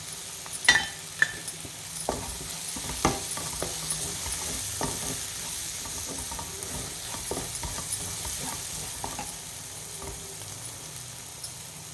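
Masala sautéing in a pan as chili powder goes in for a vanjaram fish dish, a soft sizzle underlying intermittent scraping and tapping of a spoon stirring, with a few sharper knocks early on.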